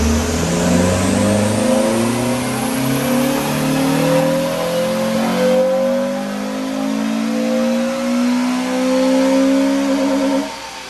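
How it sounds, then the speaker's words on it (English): A modified Honda Civic FN2 Type R engine revs on a dyno during a full power run, its loud, close note climbing steadily in pitch through the rev range, then dropping off right at the end. "So let's do a standard power run."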